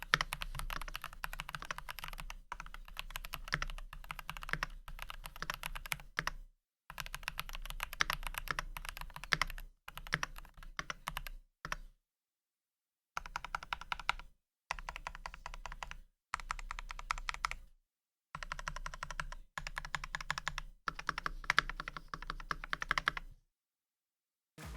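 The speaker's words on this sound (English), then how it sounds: "the sound test is going to be with the new keycaps" Typing on a Keychron V1 mechanical keyboard fitted with new keycaps, rapid close clacking keystrokes in long bursts broken by several short silent pauses, no talking.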